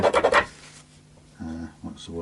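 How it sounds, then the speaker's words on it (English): Hardened super glue is scraped out of a fret slot on an Eko Ranger VI guitar during a refret, giving a quick burst of close rasping strokes, followed by someone talking. "I'm going to just clean out this sticky super glue for a minute"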